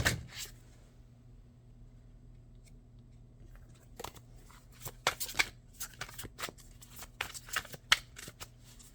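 Tarot cards being shuffled and drawn from a deck, a quick riffle at the start, then quiet, then a run of close, crisp, irregular card snaps and flicks.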